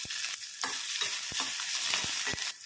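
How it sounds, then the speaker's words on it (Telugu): Green chilies and chopped spring onions frying in oil in a kadai, a close, steady sizzle broken by several scraping stirs of a spatula against the pan. "ఉల్లికాడలు ఇలా వేయించుకున్నాం కదా"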